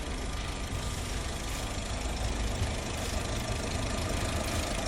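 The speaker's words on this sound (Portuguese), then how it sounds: "Escute esse motor bom no vídeo que eu vou colocar agora." A healthy used car engine idles and revs at close range, giving a steady mechanical hum with a faint ticking and a slight rise and fall in pitch.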